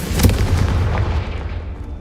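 Confringo fire spell blast in the Hogwarts Legacy video game, a sharp crack opening into a deep rolling boom that decays over about two seconds, loud and close with no voices.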